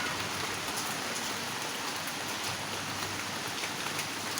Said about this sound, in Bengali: টিপ টিপ করে বৃষ্টি পড়তেছে